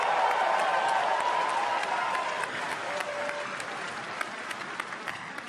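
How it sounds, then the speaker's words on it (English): Audience at the Adobe MAX conference applauds a presenter, a dense wash of clapping that starts loud and gradually thins, with scattered individual claps near the end. "Give it up for our Pete!"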